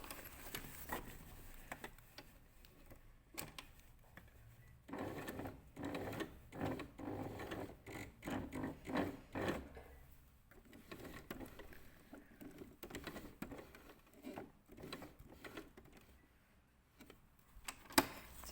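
A sewing machine stitches an exposed zip, its motor running in soft, uneven bursts. Short pauses break up the stitching as the fabric is turned, and the whole sound stays faint and close.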